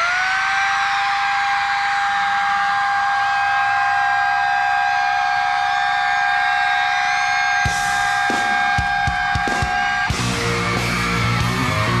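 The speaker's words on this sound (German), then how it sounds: "es gibt einen Song, der fängt genauso an mit der Sirene" At a concert in Cologne, a long steady siren tone opens a song and holds for several seconds before loud bursts of the band cut in and break it up.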